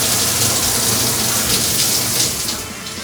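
Water running steadily from a tap while hair is rinsed, a loud close splashing gush that eases slightly at the end.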